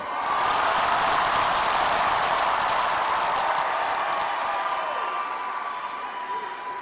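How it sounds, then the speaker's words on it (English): A large crowd at a political rally in Oklahoma City cheers and roars loudly and continuously, the noise swelling early and then slowly fading while staying dense throughout. "This is a beautiful crowd, and this is a loud crowd."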